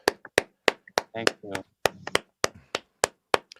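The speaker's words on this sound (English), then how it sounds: "Why don't we give you an enormous applause, sir" A small audience gives sparse, distinct claps at a presentation, widely spaced and close by, while someone speaks over them.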